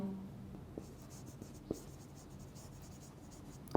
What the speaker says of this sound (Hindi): मैं लिख भी देता हूं